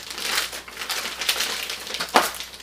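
Plastic MRE accessory packet being cut open and handled, giving a few soft crinkling, crushing rustles at close range with one sharper snip or crackle near the end, no talking.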